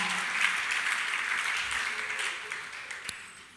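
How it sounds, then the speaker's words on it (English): Clapping from a church congregation, a steady broadband patter that fills the clip at moderate level and thins out slightly toward the end, with no clear voices over it. "Charlie, the clapping is suspect on the left-hand side"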